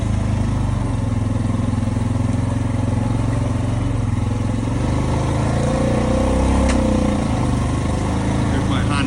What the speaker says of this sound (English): There's my Honda automatic transmission kicking in